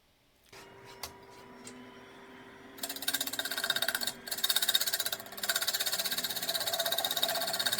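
A wood lathe whirs up with a steady motor hum, then a loud, continuous rattling chatter kicks in as a garlic keeper spins on it, with a few brief pauses.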